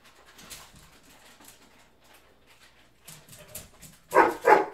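Dog barking from just outside a room: faint whimpers and muffled yelps, then two loud, sharp barks at the end.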